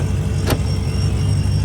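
A supercharged Chrysler 300C idling with a steady low engine rumble, heard close and loud, with a brief hissing whoosh partway through.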